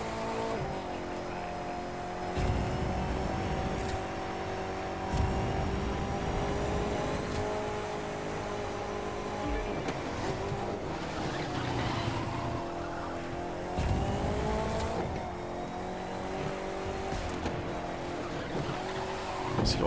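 Ford car in the racing game The Crew 2 drifting, with a loud engine droning and revving in long sustained pitches, plus tire squeal and skidding, and regular shifts in tone every few seconds, without talk.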